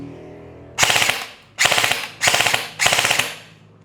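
Four short full-auto bursts ring out close and loud from an airsoft Sig Sauer MCX rifle (AFS001), each a rapid buzzing rattle separated by brief gaps.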